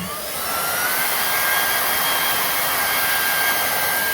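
Heat gun blowing hot air onto a rotted panel during motorhome repair, a steady, close, loud airflow whoosh that holds level throughout with no talk.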